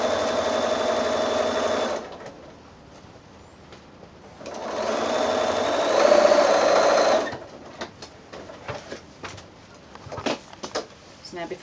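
A sewing machine stitches along a drawn line on a quilt border seam with mitred corners, running in steady whirring bursts with pauses between them, fairly close and at moderate volume.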